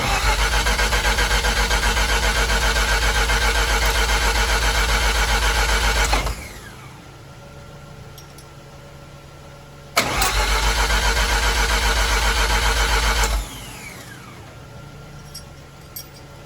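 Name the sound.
car engine cranking and idling after oil pressure regulator install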